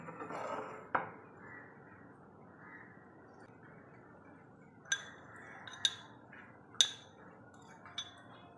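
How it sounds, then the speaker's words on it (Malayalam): A spoon stirs breadcrumbs into a mixture for a banana snack, giving soft scraping with a few sharp clinks against the bowl near the start and again toward the end, fairly quiet and close. "ഒരു സ്പൂൺ കൊണ്ട് നല്ലതുപോലെ മിക്സ് ചെയ്ത് കൊടുക്കുക"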